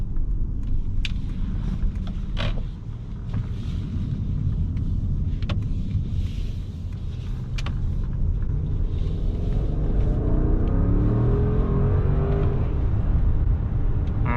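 A Mercedes-Maybach S680 luxury sedan with a V12 engine accelerates, giving a steady low engine rumble and whir that builds gradually over several seconds, heard from inside the cabin with no talking.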